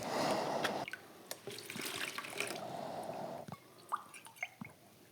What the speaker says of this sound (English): So add some water, 2 cups.